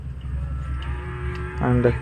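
Bullocks at a cattle market low with deep, drawn-out moos against a low background rumble, one louder call rising near the end.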